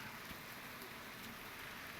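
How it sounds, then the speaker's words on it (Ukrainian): Cold rain falling outdoors, heard as a faint, steady hiss of rainfall that continues unbroken throughout, with no talk. "бо прохладний дощ"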